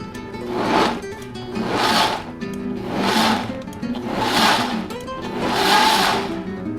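A Waring blender pulsing gazpacho ingredients including a Turkish pepper, five evenly spaced whirring bursts about a second apart, each swelling and fading with a chopping rattle, close and moderately loud with no talking.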